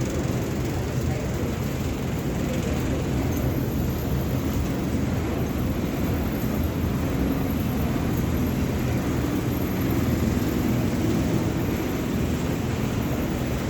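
Air India Express airliner at the boarding stage heard as a continuous low engine and airport hum, a steady mid-level drone with no clear peaks throughout.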